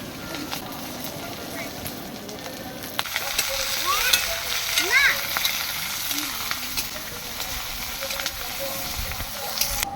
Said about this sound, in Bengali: এবার আমরা বিনস আর গাজরটা ভেজে নিচ্ছি ভেজ ডালের জন্য।